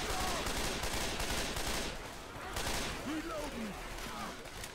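Gunfire in Left 4 Dead 2, a dense rapid stream of shots from the player's weapon, loud and continuous, with characters' voices calling out beneath.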